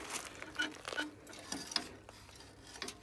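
A homemade seed drill pulled by a Lovol tractor, its spring-loaded metal feed mechanism ticking and clicking in an irregular run of light, close ratchet-like snaps.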